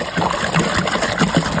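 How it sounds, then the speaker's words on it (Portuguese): Water poured from a container into a cooking pot for boiling cassava, a steady splashing gush running the whole moment at close range, with no talk over it. "Deixa eu colocar logo água aqui."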